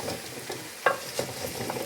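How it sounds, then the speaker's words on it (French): A spoon stirs pumpkin and butternut squash soup in a large pot, giving soft scraping swishes with a faint sizzle underneath and one clearer clack of the utensil against the pot. "Je touille."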